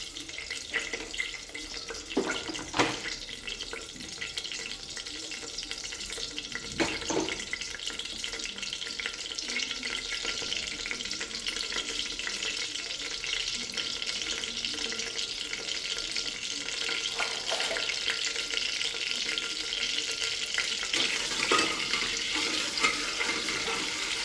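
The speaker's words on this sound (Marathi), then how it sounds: "सर्वप्रथम आपण यात मोहरी टाकून घेऊया. त्यानंतर जिरे टाकायचे आहे 1 चमचा." Mustard seeds and cumin sizzle in hot oil while a millet (bajra) daliya khichadi is prepared, a steady, even frying hiss running the whole time with a few soft clinks and no one talking.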